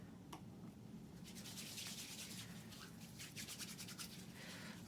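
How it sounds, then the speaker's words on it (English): A nurse washes her hands with soft, continuous rubbing and scrubbing friction, faint and close, with no speech. "I'm going to wash my hands again."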